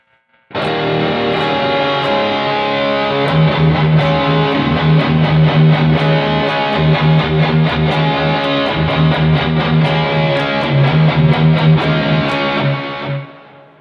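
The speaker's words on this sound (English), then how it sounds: "That is the tone without the phaser." Heavily distorted electric guitar tone from a BOSS eBand JS-10 with no phaser, a loud, dense, continuous riff with steady picked rhythm for about thirteen seconds, played alone.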